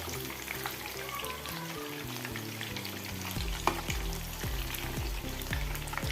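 Chicken frying in a pan with curry leaves over a full gas flame, a dense, steady crackling sizzle heard close up beneath background music.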